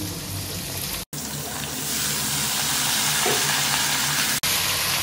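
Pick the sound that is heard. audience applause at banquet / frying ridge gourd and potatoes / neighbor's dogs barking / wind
frying ridge gourd and potatoes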